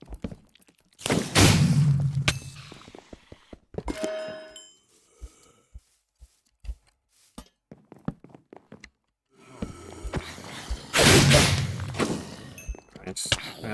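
A recoil yeet cannon fires in the Monumenta game, giving two loud, broad whooshing blasts several seconds apart, with scattered clicks and thuds between them as the player moves.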